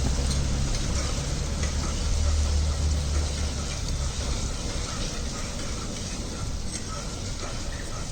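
Peas sizzling in hot oil in a pan while being stirred, a steady close crackling hiss that runs throughout at moderate level with low rumbling underneath.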